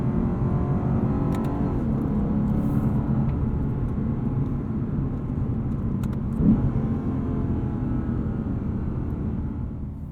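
A 2021 Lexus RC F Fuji engine pulls steadily from inside the cabin, a continuous mid-pitched drone that rises gradually under acceleration for about ten seconds, with no talking.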